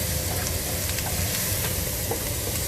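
Chopped onion sautés in extra virgin olive oil over fairly high heat, a steady dense sizzle that fills the whole stretch without pause, close by and with no talking.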